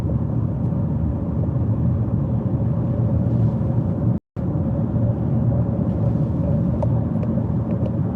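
A car driving on a UK road during a driving test route around Horsforth, picking up speed; a steady, loud engine and road rumble runs continuously with a brief dropout midway.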